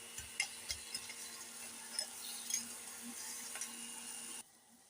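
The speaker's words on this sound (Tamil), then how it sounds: "நான் வந்து இதில் தோசை திருப்பில் வதக்குவேன்" Tomatoes and onions sautéing in a pan for tomato kuzhambu, stirred and pressed with a dosa spatula, giving a soft continuous sizzle with light tapping scrapes before it cuts off near the end.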